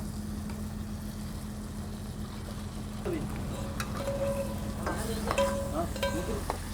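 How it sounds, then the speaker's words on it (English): Prawns in a spiced sauce of cumin, coriander and garam masala are stirred in a pan, a steady soft sizzle with scraping and clinks of the utensil growing busier toward the end, under a low constant hum. "Stir it up and make sure all the sauce smothers the prawns."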